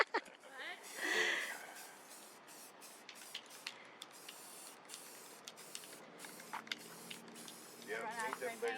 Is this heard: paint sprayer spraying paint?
yes